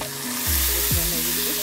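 Bitter gourd curry and spices frying in a pan without onion, a steady sizzle running throughout with a few scraping stirs partway through, close and fairly loud.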